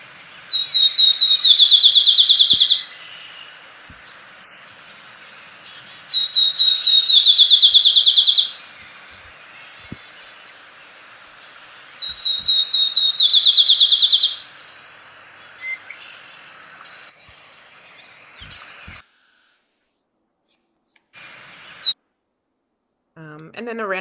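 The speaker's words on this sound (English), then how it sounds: "field sparrow songs are amazing" Field sparrow song sounds three times, each a bright run of accelerating high whistled notes lasting about two seconds, separated by quiet gaps with faint background and soft noises near the end.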